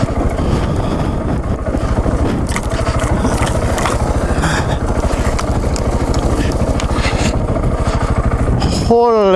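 A KTM 690 Enduro dual-sport motorcycle labours up a steep, deeply rutted hill, its engine a continuous loud rasping drone with wind buffeting, ending with a sharp rev as the throttle is opened.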